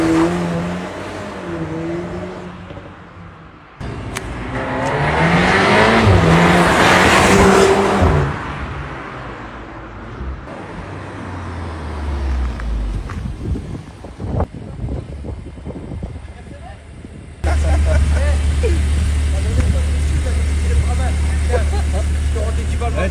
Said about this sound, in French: vous voulez faire un petit départ arrêté avec vos V8 là